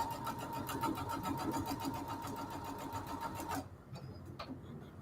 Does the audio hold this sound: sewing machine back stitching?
yes